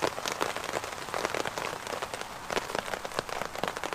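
Rain pattering steadily on leaves and gear in the woods, a dense, close spatter of drops with occasional louder taps, no voices.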